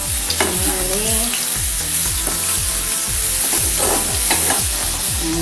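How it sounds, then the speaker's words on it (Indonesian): Ground spice paste sizzles as it is sautéed in a pan, with rhythmic stirring scrapes repeating throughout, loud and close with no talk. "Ini kita tumis bumbu halusnya."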